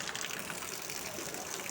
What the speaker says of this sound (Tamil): நல்லா ஃபுல்லாக வந்து தண்ணி ஒதுங்கிட்டே இருக்குது